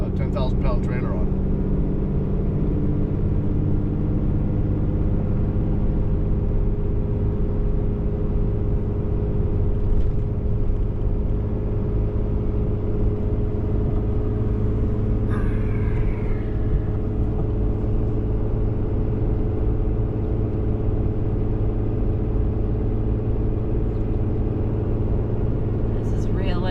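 A vehicle in four-wheel drive pulling a 10,000-pound trailer uphill on a wintry road, steady loud engine and road rumble droning throughout from inside the cab, with a person talking over it.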